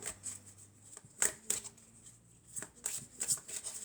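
Tarot cards are shuffled and drawn by hand in a quiet room, giving soft, close riffling and several brief crisp card flicks and slaps.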